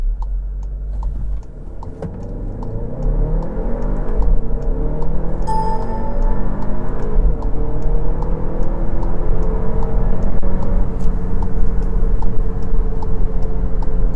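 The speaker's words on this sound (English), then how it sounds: "We'll do an acceleration test." A VW Tiguan Black Edition with a 2.0-litre turbocharged 220-horsepower engine accelerating hard on a test drive, the engine note climbing through rising gear sweeps with a shift midway, a steady loud drone heard from inside the cabin without talk.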